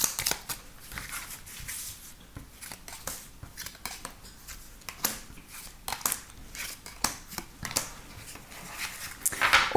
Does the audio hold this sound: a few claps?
no